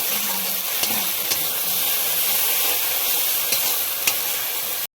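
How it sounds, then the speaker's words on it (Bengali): Spice masala stir-fried in a pan with a little sugar, a steady loud sizzle throughout with occasional scraping strokes of a spatula, no talking. "দিয়ে ভালো করে মশলাটা কষিয়ে দিয়ে দিচ্ছি"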